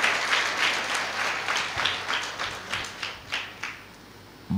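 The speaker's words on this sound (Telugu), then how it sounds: "క్లాప్స్ కొట్టు గట్టిగా" An audience at a church programme claps loudly in a run of rhythmic bursts, fairly near, with no talk over it.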